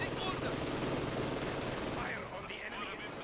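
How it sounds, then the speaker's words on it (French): Machine gun fire in the World War II strategy game Company of Heroes 2, a dense continuous rattle of gunfire and battle noise that thins slightly toward the end. "Ici on se fait mitrailler par une mitrailleuse ainsi que de l'infanterie"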